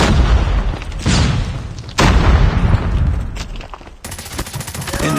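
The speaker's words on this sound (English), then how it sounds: "Flashbang!" A flashbang grenade going off in COD Mobile, with loud close booms and bursts of gunfire followed by a ringing high tone, all intense and dense.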